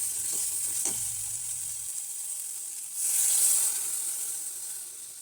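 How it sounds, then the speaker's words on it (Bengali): Water poured into a cooked-down spice paste for a curry: a quiet fry is followed by a loud, hissing burst of steam that swells, holds, then slowly fades. "তো আমার মশলাটা কষানো হয়ে গেছে, এবার জল দিয়ে দেবো।"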